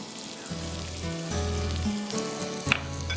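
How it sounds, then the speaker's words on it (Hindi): Chopped onion fries in oil and butter on a tawa, giving a steady crackling sizzle. Clinks and scrapes break in now and then, and a tonal hum rises and falls beneath the frying. "आधा कप तेल चला गया और इसमें हम शामिल करेंगे 2 टेबलस्पून या 2 आउंस लूर पाक का मक्खन।"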